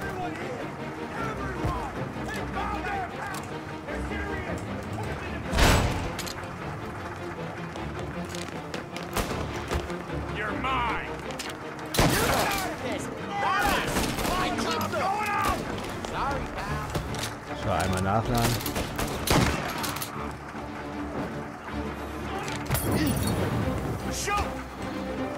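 Shotgun blasts in the video game Mafia Definitive Edition, a few sharp booming shots scattered through the stretch over game sounds, with someone talking throughout.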